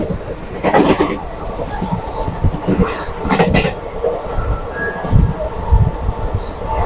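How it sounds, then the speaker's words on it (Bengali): A passenger train runs on a long-distance journey through India, heard from inside the carriage as a constant rumble with recurring clattering wheel bursts and brief squeals. "আমরা ট্রেন জার্নি করছি।"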